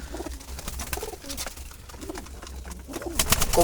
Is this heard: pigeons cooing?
yes